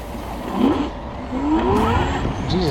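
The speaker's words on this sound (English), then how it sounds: "I mashed the throttle and I actually was wheel spinning all the time" A carbon-fibre Rion RE80 race e-scooter capable of 130 km/h accelerates hard with its wheel spinning, giving rising and falling electric motor whines over road rumble in short, overlapping sweeps, close and moderately loud.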